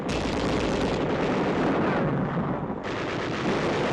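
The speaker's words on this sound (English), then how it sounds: "machine guns cover the withdrawal of 8th Army troops pinned down by enemy fire in the Mangima Valley" Dense, continuous roar of WWII machine gun fire from 1945 combat footage on Upper Mindanao, troops withdrawing under enemy fire in the Mangima Valley, with a brief dip near the end before the crackling barrage resumes.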